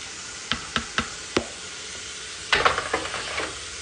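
A spoon stirs a pot of chicken and dumplings, knocking against the side four times, then a cluster of scraping clacks over a soft, steady hiss.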